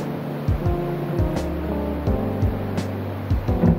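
Sea waves surge and wash onto the beach at Mandarmani, with swells rising and falling every second or so under a steady low rumble and droning background tones.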